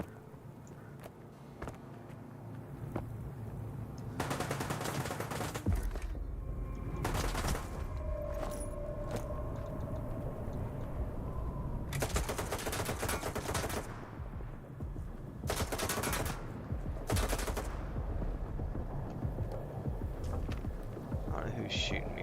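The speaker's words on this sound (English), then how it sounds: "who's shooting me from where" Bursts of automatic gunfire in S.T.A.L.K.E.R. 2: Heart of Chornobyl, coming in several loud volleys of a few seconds each, separated by quieter stretches of ambient game sound.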